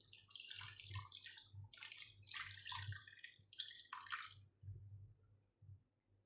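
Water poured from a vessel into a pot of cooking dal with amaranth greens and tomato, a close splashing, gurgling pour in uneven bursts that stops abruptly near the end, with a low hum underneath.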